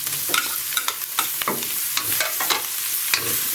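Hotdogs frying in a pan of spaghetti sauce, with a steady close sizzle broken by frequent scraping and clattering stirs of a utensil against the pan, fairly loud with no one talking.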